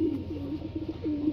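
Soft, low pigeon cooing, a repeated throaty burbling that rises and falls close by, with no talking.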